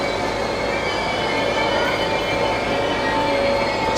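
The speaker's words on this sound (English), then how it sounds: "it looks like this is a train just pulling in now" A high-speed train pulls into a station in Naples, Italy, giving a continuous loud rolling rumble with faint squealing wheels and steady hiss throughout, no voices.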